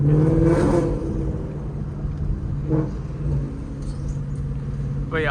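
Inside a moving Ford Mustang GT 5.0 the V8 drones as a steady low cabin rumble, swelling briefly at a couple of points, with a voice speaking over it at the start.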